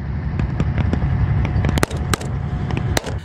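Gunshots are fired into the sky during a live-fire tactical military exercise in Shymkent, heard as a rapid series of sharp cracking reports, some closer and louder, spaced irregularly over a rumbling outdoor background.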